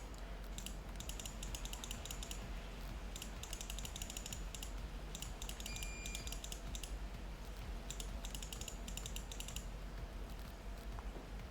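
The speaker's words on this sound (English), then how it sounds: "The clicking is just gonna keep going, by the way." Rapid bursts of clicking repeat from a video game, clustered in dense runs with short gaps between them, steady and close, with no talking over them.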